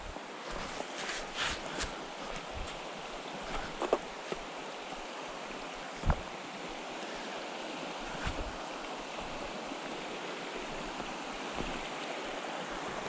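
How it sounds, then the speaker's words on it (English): Fast-flowing stream water in the Appalachian Mountains rushes steadily and close by, a continuous broad hiss and gurgle with a few faint knocks and splashes. "now we're getting into some good faster water"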